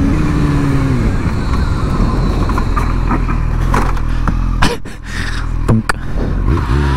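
A 600cc sport motorcycle engine runs loud and close, holding a steady high-revving drone with brief dips and surges near the end.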